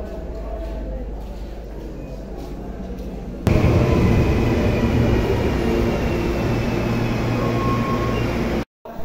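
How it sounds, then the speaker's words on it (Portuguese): A subway train rumbles into a crowded station, its roar rising suddenly and holding steady before cutting off at the end. "já vem o metrô que a gente vai agora para casa"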